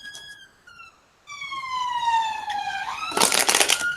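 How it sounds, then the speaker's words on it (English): A police siren wails with rising and falling harmonic tones, loud and close, ending in a burst of harsh broadband noise. "Excuse the police sirens."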